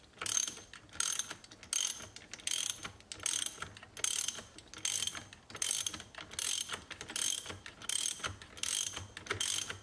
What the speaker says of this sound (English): So you're just going to go ahead and you're going to tighten this down.